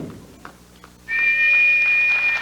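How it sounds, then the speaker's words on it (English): A referee's whistle opens a professional bowling match at the 1999 Japan Cup: one long, steady, shrill blast cuts in loudly after a quieter first second of arena murmur. "And there's the whistle to start the opening match."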